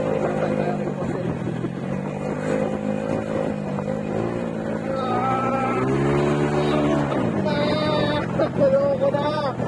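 A Honda Mio Sporty scooter rides along carrying a passenger, its engine droning and rising in pitch as it speeds up, steady and close, with voices over it.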